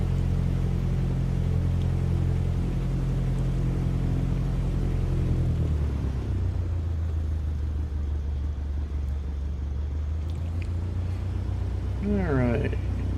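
A piston aircraft engine in a flight simulator game drones with steady low-pitched harmonics that shift to a new pitch partway through as the run-up proceeds, with brief talk near the end.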